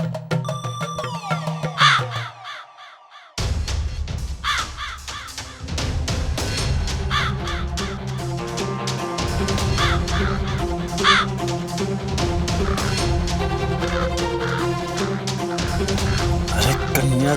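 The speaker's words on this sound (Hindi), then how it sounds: "अरे कौवे, नीचे आ जा।" A crow caws again and again under loud, busy music that carries on throughout.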